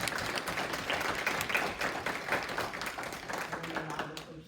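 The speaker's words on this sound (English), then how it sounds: "So we will give them a round of applause." Applause from the audience at a school board meeting honouring a student athlete, steady dense clapping lasting several seconds with murmuring voices mixed in, tapering off at the end.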